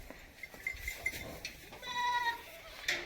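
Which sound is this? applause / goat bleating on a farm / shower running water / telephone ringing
goat bleating on a farm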